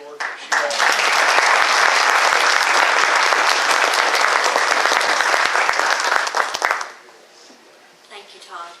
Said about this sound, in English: I'd like to have a round of applause for all the work that she does